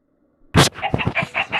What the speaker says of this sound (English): let's place a bunch of chickens